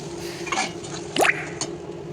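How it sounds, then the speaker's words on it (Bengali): Water poured from a rinsed bowl into a pan of simmering potato curry with poppy-seed paste, giving a short splashing squish and drip over a quiet kitchen background. "আর ওই যে বাটিটা ধুয়ে একটু জল আমরা দিয়ে দেবো।"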